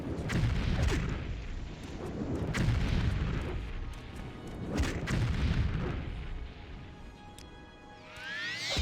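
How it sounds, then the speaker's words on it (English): Fireball spells cast in combat in the game Morrowind: repeated heavy booming blasts rumble and roll out, with a swirling magical whoosh rising at the end. "Decided a fireball is the best way to take this out."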